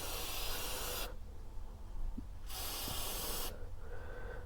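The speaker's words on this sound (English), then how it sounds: "what we're going to do here is just kind of give it a spray down" Two bursts of cleaner spray hiss onto a K&N air filter from a 2015 Honda Shadow Phantom motorcycle, each a loud, broad hiss lasting about a second, with a quieter gap of low rumble between them.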